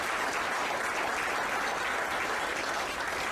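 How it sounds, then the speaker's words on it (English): Steady, dense round of applause from a banquet audience at an awards and hall of fame dinner, loud and continuous without a break. "So a little round of applause, please, for Lou."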